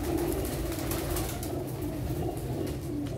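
Teddy pigeons coo in a loft, low soft repeated calls over a constant noisy background, close and fairly loud, with no talking.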